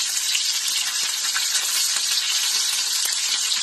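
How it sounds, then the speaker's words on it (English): Fish pieces with a squirt of lemon juice fry in a crowded skillet, giving a steady, bright hiss and crackle that holds evenly throughout, close and fairly loud with no speech. "I'm going to take and squirt some lemon juice on top of it and let it fry and brown on the other side."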